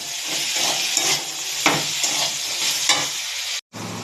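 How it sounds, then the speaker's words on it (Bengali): Potato and pumpkin pieces with turmeric and salt are stirred in a frying pan, a close, steady sizzle broken by repeated spatula scrapes, then a sudden brief cut to silence near the end before the frying resumes. "এবার এগুলোকে আমি ভালো করে নাড়াচাড়া দেবো।"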